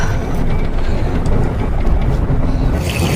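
A passenger train runs steadily on rails, heard from inside a carriage as a continuous loud rumble and rattle with no pauses.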